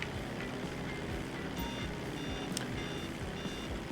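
A GTA 5 aircraft warning sounds as repeated high electronic beeps at a regular pace over a steady engine drone, with no voices over it.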